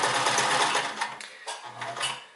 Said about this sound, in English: I want the machine to pull that stitch tight in the back.